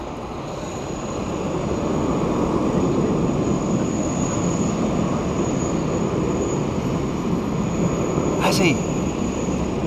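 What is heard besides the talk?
Qantas Boeing 737 airliner at Sydney Airport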